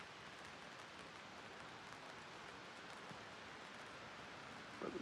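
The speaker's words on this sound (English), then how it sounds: "but you can hear the rain." Steady soft rain drums on a North Face tent during car camping, a continuous even hiss close around without talk, with a faint rustle near the end.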